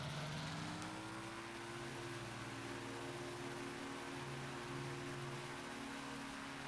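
Zenith STOL CH701 bush plane engine throttling up in Microsoft Flight Simulator 2020, a steady droning hum that builds slightly and holds, faint and even throughout with no talking.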